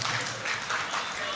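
A crowd at a mushaira poetry gathering in Tanda, applauding as a steady, dense roar that holds at an even level throughout the short stretch.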